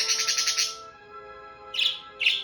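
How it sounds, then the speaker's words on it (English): Pet parakeets and a Quaker parrot chirp indoors, a rapid run of shrill tweets at first, then two more sharp, loud calls after a short pause, all close and without talking. "We've got some crazy birds, don't we?"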